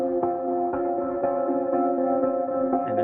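A music track slowed to 60 percent speed, about 60 beats per minute, without pitch correction, so it plays lower and heavier, with steady sustained tones and a regular pulse of hits throughout.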